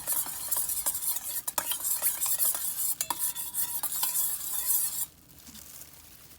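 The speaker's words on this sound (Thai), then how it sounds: "แล้วก็คนๆให้เข้ากันอีกทีค่ะ" Orange-red food colouring stirred into water in a bowl, a steady close swirling and clinking of a spoon against the container for about five seconds before it stops, with no voices.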